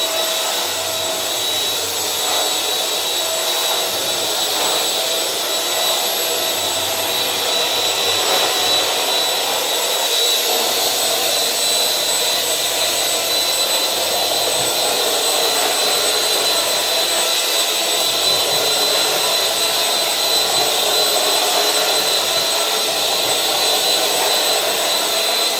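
A Silvercrest SMS 300 B2 anti-dust-mite handheld vacuum cleaner runs continuously with a loud, steady whirring whine and faint high tonal hums. The level stays close and unbroken throughout.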